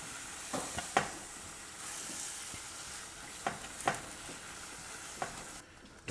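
Melting queso blanco cheese stirred in a pan over lowered heat, with a soft steady sizzle under occasional scraping clicks of the spoon against the pan.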